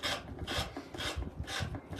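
Rhythmic back-and-forth sanding on a wooden cigar box, four rough rasping strokes close up, no voices.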